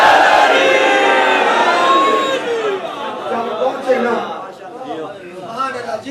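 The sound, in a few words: crowd chanting slogan response at Muharram gathering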